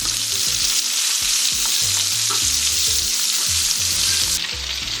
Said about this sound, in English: After cooking your shrimp, go ahead and cook your sausage.